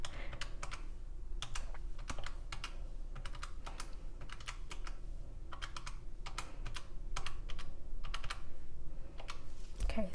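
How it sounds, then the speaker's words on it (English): Numbers tapped out on a calculator at a desk: quick, light, irregular clicks in short bursts over a faint steady background hum, close by and with no talk. "I have my calculator to the side, so I'm just gonna type in how much it is together."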